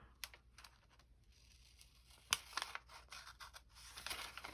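Scissors snip through a square of paper cut from a yellow-toned colored chart, a few crisp cuts and rustles at close range, quiet and without talk.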